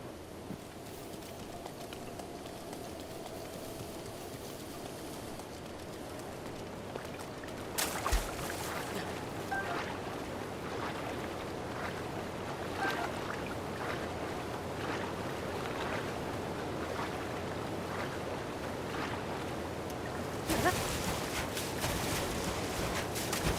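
Steady rushing roar of a waterfall at Zora's Domain in Zelda Breath of the Wild, a continuous broadband wash of falling water with brief louder surges, no talk over it.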